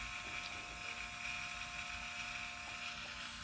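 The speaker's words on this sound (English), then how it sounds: "you grab the paw with one hand, the Dremel with the other, and you do a quick touch" A Dremel rotary tool used for trimming a dog's nails runs with a steady, high-pitched whine, continuous and fairly faint, with no pauses and no voices.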